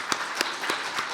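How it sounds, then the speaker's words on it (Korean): A church congregation applauds, a steady wash of clapping with a few louder claps standing out. "박수 한번 치겠습니다"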